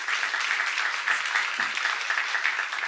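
Steady rhythmic clapping from a church congregation during tongues prayer at a Korean seminar, a dense continuous patter at moderate volume with no clear talk over it.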